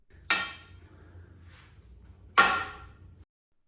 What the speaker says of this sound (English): It will make a cracking noise when it breaks free like this.